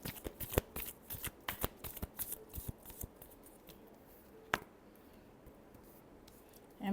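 Tarot cards shuffled by hand in a quiet room, a quick run of crisp riffling snaps and flutters over the first few seconds, then sparse soft handling with one sharp card slap near the end.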